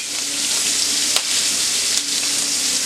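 Blackened Cajun shrimp sear in a hot pan after flipping, giving a steady, loud, close sizzle that runs without a break, with no talking.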